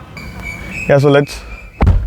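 A door on a 2021 Toyota Fortuner 4x2 AT facelift SUV shuts with one solid, close thud near the end. Someone speaks just before it.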